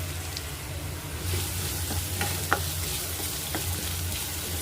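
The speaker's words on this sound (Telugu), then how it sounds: "ఉల్లిపాయ పెద్దదోటి తరిగి పెట్టుకున్నాను అది వేసుకుంటున్నాను" A large chopped onion fries in oil with ginger garlic paste, giving an even, moderate sizzle. A few light scraping stir clicks sound partway through.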